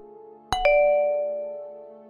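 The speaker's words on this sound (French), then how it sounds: "la sonnette de la porte d'entrée retentit." A front door doorbell sounds a clear two-tone ding-dong, the tones struck in quick succession and then left to ring out and fade slowly, heard alone and fairly close.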